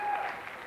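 A television studio audience applauds and cheers in a dense, continuous burst of clapping and voices, brief and moderately loud.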